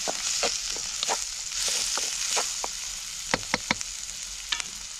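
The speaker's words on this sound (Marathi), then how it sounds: "कांदा चांगला परतून झालाय. आता आपण ही ठेचलेला लसूण आणि अद्रक घातलाय." Onions, crushed garlic and ginger sizzle in a hot pan while a spoon scrapes and stirs, giving a steady bright crackle broken by repeated short scraping strokes, close and without talk.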